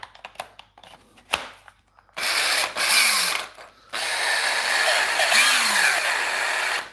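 A faulty Makita power drill runs roughly in two loud bursts, whining and rattling unevenly, after a series of clicks and knocks from handling the tool; no speech.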